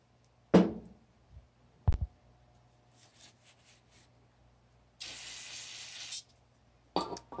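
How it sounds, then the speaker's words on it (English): Brake cleaner sprayed from an aerosol can onto a paper towel rag during BMW Airhead alternator repair: one close, steady hiss lasting about a second, with a few sharp knocks and handling taps before and after. "I'm just gonna spray some brake clean on a rag"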